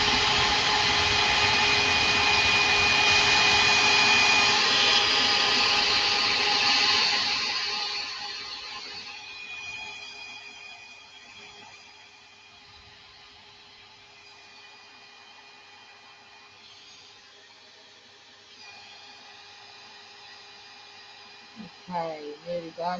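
A hair dryer whirs loudly and steadily for several seconds while drying a craft artwork, then its noise drops to a quieter, distant hum that fades under soft background sounds.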